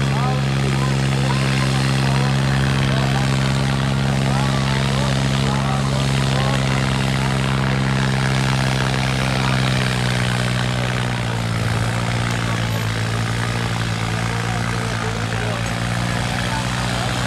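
A Sonalika 745 tractor engine labours steadily through its first pulling round, a loud, continuous low droning rumble with a strong harmonic hum that shifts slightly in pitch partway through, with no break in the sound.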